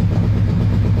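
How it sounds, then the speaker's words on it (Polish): A Yamaha XVZ 1300 Venture motorcycle engine idles after carburetor work, a close, loud, even drone with a steady low pulse and no talk. "Dokładnie pracuje silnik równo."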